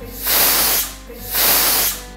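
A pressure cooker vents steam while tomatoes and carrots cook inside, giving two loud, close bursts of sharp hissing that swell, hold and fade, with a short lull between them.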